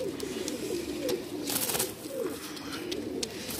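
A young pigeon coos among others in a bird market, with low, soft, repeated warbling calls over a busy background of rustling and scattered sharp clicks and taps.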